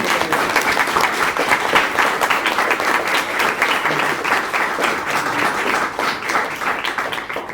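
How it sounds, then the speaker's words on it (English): Sustained, loud applause from a crowd, with dense clapping that continues steadily throughout. "Can we give Chloe Morris a round of applause?"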